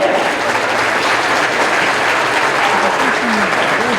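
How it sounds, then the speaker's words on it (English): Sustained loud applause from a crowd at a hurling final between Dunderry and Rathmolyon, a dense steady clapping that fills the whole clip without a break. "Just a round of applause for everyone involved."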